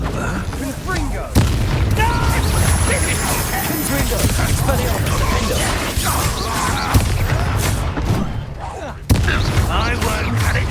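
Repeated Confringo blasting spell explosions in Hogwarts Legacy, loud booms and crashes spread across a continuous battle din, with sharp bursts at intervals and shouting voices mixed throughout.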